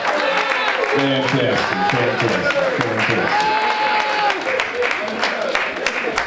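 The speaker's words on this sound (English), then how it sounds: "give him another round of applause, please" An audience applauds at a 90th birthday celebration, a steady wash of clapping and crowd noise lasting the whole stretch, with someone speaking over it and some background music.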